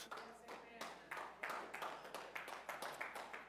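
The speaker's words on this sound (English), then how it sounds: "I appreciate you guys clapping because it's true" An audience claps steadily, with a string of close, crisp hand claps in a brisk rhythm, while a voice is faintly present.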